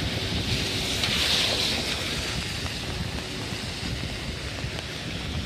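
Strong wind from a typhoon roars steadily against the microphone, a loud continuous rushing with no voices.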